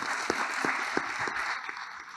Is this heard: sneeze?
no